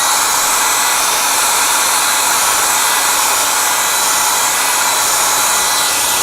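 A hair dryer blows on wet paint with a steady, loud whooshing roar that holds unbroken and close throughout, with no one talking.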